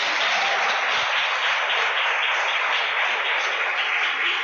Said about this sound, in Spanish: Denle un aplauso al Rey de Gloria.